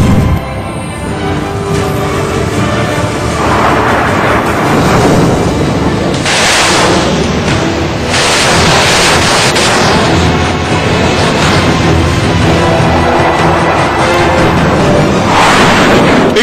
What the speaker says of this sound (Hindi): इटली की रक्षा प्रणाली से लैस यह हथियार 1 मिनट में 85 राउंड तक फायरिंग कर सकता है